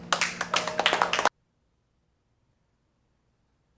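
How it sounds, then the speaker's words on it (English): A short burst of rhythmic hand clapping from a church congregation, close and fairly loud, lasting about a second before cutting abruptly to silence. "Y'all clap your hands."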